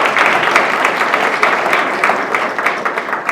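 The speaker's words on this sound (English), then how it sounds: "She would like once again to give you all a round of applause." Audience applause at the Windsor Phenomenal Women Awards ceremony in Windsor, Connecticut, a dense, steady wash of many hands clapping, loud and continuous throughout with no clear voices.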